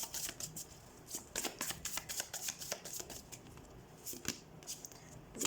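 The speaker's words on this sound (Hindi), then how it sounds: "ओके लेट्स सी, हम कार्ड शफल कर लेते हैं।" Tarot cards being shuffled by hand close up, a run of quick riffling and sliding bursts with brief pauses, fairly soft and with no talking.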